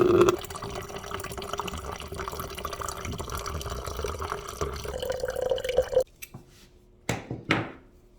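Distilled water pours and gurgles as it flushes through a Husqvarna Svartpilen/Vitpilen motorcycle coolant system, a steady trickling stream that stops abruptly, followed by a few separate drips and splashes.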